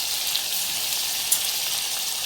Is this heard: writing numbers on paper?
no